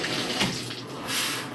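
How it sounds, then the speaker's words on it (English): Steady broadband rush of water running from a bathtub faucet and shower head, close and continuous with no talking. "Shower head is working properly."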